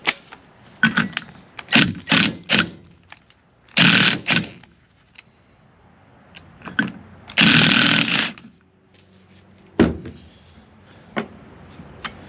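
A power tool removes a 24 mm pulley from a 105 amp alternator during a rebuild, making loud, close bursts of rattling whirr with quiet gaps between them.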